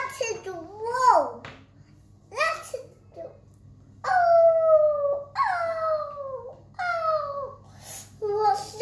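A toy wolf plays a recorded howl in long, drawn-out, falling tones, repeated a few times, while someone talks between and over the calls.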